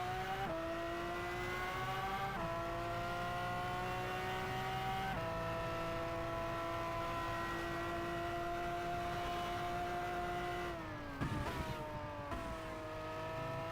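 Formula One car engines roar in F1 Challenge '99-'02 at the 1993 German Grand Prix, a sustained high whining drone that climbs in pitch through each gear and drops at the shifts, with a brief rough stutter near the end.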